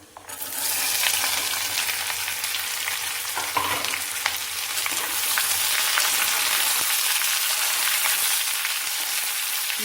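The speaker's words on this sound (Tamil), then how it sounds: "லைட்டாக வதக்கி விட்டுலாம் இப்போ நம்ம வெங்காயம்" Onions sautéing in a pan for a South Indian kootu, a loud steady sizzle and crackle of frying that runs continuously throughout, with occasional stirring scrapes and no voices.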